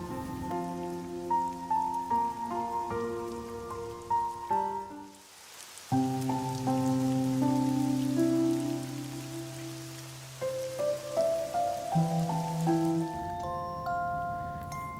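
Steady rain patters softly beneath slow piano notes in a sleep music track, a gentle continuous wash running under the melody throughout, with no voices.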